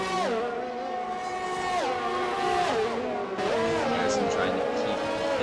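Formula 1 cars race at the Canadian Grand Prix, engines screaming loudly as they pass in succession with rising and falling pitch, under a commentator's voice.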